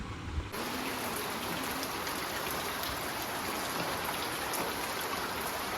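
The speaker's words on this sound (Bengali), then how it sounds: "আজকে তো দেখো টানা বৃষ্টি হচ্ছে সকাল থেকে" Steady rain falls, a dense, even patter and hiss that continues without change throughout, heard on its own.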